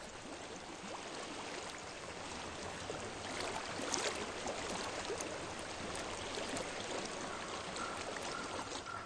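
Flowing stream water in a video game, a steady, faint rushing and trickling wash that runs continuously without pauses, heard alone with no voices.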